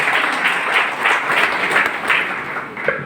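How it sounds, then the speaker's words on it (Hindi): A loud, dense burst of applause from an audience at a Safe Shop business gathering, steady and sustained throughout, cheering a panchayat master. "पंचायत मास्टर साहब के लिए एक जोरदार ताली।"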